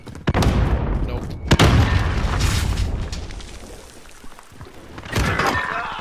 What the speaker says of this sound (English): I hope I kill someone with this grenade